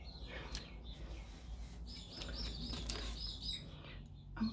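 Several outdoor birds chirp and tweet in quick bright bursts, fairly distant, over a steady low room hum with no talking.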